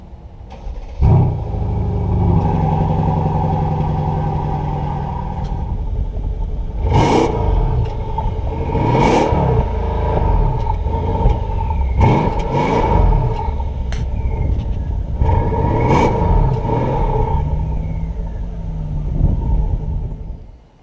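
An exotic sports car with a matte finish revs its engine repeatedly, a loud close roar that swells and falls in several sharp bursts over a steady idling rumble.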